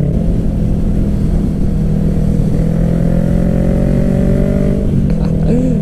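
A Kawasaki Ninja 300 motorcycle accelerates away from a traffic light, its engine loud and close, the revs climbing steadily through a long pull with no talking.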